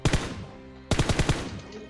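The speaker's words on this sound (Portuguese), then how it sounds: "Tá atirando." Gunfire in the mobile battle royale game PUBG Mobile comes as two quick automatic bursts of about four sharp, loud shots each, separated by a brief pause.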